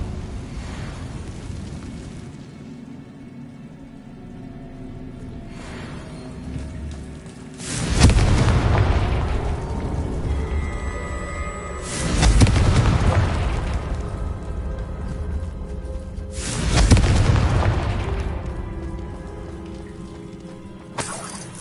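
Confringo fire spells exploding in the video game Hogwarts Legacy: three loud, booming blasts spaced a few seconds apart. Each blast is followed by a crackling, rain-like spatter that fades back into a quieter ambient background.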